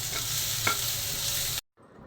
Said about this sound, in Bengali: করলা ভাজা হচ্ছে